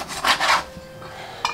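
A knife cuts vegetables in a home kitchen: two quick, close scraping strokes in a row, a short pause, then one more brief cut.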